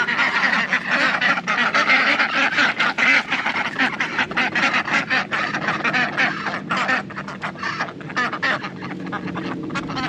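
A flock of ducks on a farm quacks continuously and noisily close by, overlapping calls forming a busy, chattering din.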